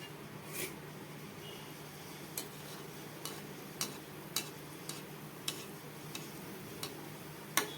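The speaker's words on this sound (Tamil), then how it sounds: "எண்ணெய் சூடாயிடுச்சு. இப்போ நம்ம குலோப் ஜாமுன் போட்டு எடுத்துடலாம்." Small gulab jamun balls deep-fry in hot oil over a medium flame, giving a faint, steady hiss broken by light, evenly spaced ticking pops.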